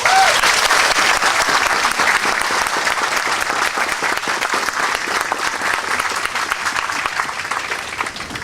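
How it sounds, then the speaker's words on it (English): An audience at an Angel Island State Park opening day applauds park volunteers with dense, sustained clapping that stays loud and even for about eight seconds and fades slightly near the end. "Please stand and let's give them a round of applause."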